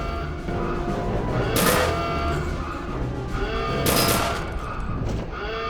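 Gunfire in the first-person shooter Return to Castle Wolfenstein, heard as two sharp bursts of shots about two seconds apart. Game background ambience fills the gaps between them, and no one speaks.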